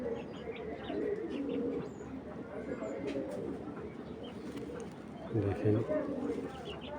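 Army Beji pigeons, including a silver Beji male, give soft low coos near the end, faint beneath someone talking at length nearby.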